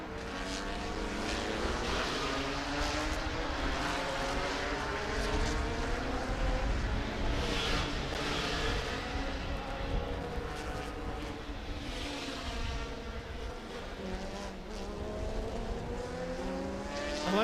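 Vintage and modern race cars roar past on the Laguna Seca circuit, engines loud and sustained throughout with rising and falling passes and overlapping motor drones.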